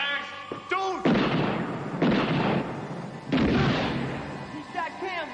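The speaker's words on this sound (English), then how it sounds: "He shot Campbell, man" Three loud, booming gunshots ring out in a tense 1989 television drama scene, spaced about a second apart with reverberant tails, and someone shouts briefly before and after them.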